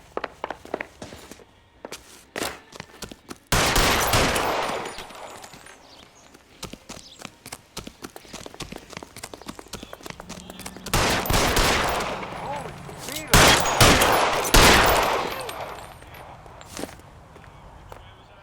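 Gunfire in the video game L.A. Noire: several bursts of sharp shots cluster around the middle and later stretches, mixed with footsteps and shouted dialogue between the rounds.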